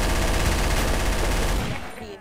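Sustained rapid gunfire from the online murder-mystery game Trouble in Terrorist Town, a dense loud burst of shots lasting about a second and a half before fading out.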